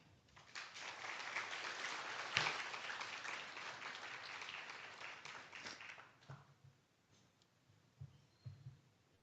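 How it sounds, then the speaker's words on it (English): Audience applause at a conference on cybersecurity and democratic resilience, a steady spread of clapping that swells early, holds for several seconds, then thins out to a few scattered claps near the end. "Let's give a warm round of applause to Mr. Salyu Babu."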